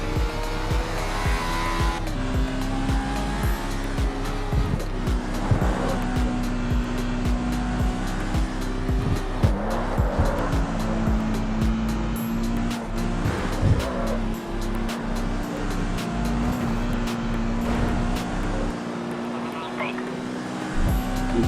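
A race car in a video game roars continuously as its engine revs up and down through the gears, with tires squealing now and then and a voice talking over the engine noise.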